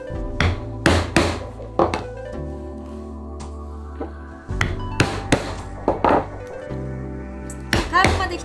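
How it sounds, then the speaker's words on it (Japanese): Hammer blows drive a punch through leather for hand stitching, giving sharp, close, irregular thwacks in clusters with short pauses between them. "どんどん穴を開けていきます。"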